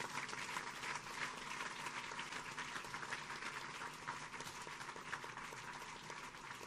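A congregation at a prayer vigil in Brétigny applauding, a steady continuous wash of clapping heard from a distance, fairly faint and even throughout with no talking over it.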